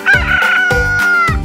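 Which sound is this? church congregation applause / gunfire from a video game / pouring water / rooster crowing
rooster crowing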